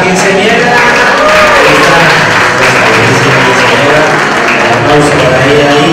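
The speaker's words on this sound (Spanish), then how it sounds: "Aplauso para ella y que cumpla sus deseos hoy y siempre como quinceañera." Dense, loud applause for a girl at her quinceañera celebration, a crowd clapping steadily in a reverberant hall with a murmur of voices mixed in.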